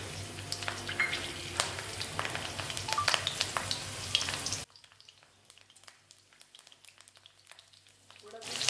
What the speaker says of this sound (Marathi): तेल थोडंसं गरम झालं त्यात मी कट केलेली मिरची टाकून घेणार आहे